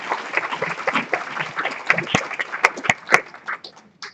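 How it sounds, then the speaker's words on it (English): An audience at a health-partnership special event applauds after a talk, scattered clapping of moderate loudness with a few sharper claps near the end, mixed with crowd murmur. "Can we have one more round of applause?"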